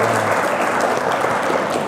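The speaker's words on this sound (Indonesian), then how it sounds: "Tepuk tangan Bapak Ibu." Audience applause at an Islamic religious gathering, steady dense clapping filling the whole short stretch, loud and close with no talk over it.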